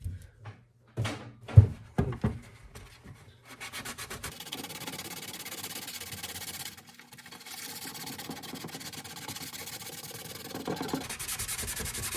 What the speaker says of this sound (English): I'm also going to sand right here because the neck collar is going to get glued